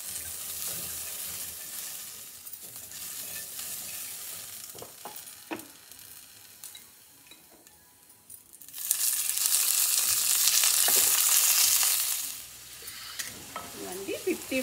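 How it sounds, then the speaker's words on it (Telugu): Green chillies and yellow cucumber fry in a pan with a steady sizzle and occasional stirring scrapes, swelling into a loud, bright crackle midway before settling back down. "కొంచెం వేయించేసుకున్నాము."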